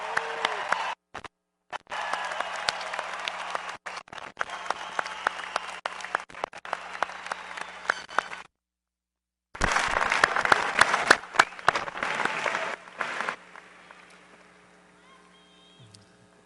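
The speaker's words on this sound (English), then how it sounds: "how about an initial round of applause and cheers for this year's graduating class?" A commencement crowd at the 2018 Texas BBA ceremony claps and cheers for the graduating class, steady dense applause broken by a brief dropout, then a louder burst before trailing off into quiet.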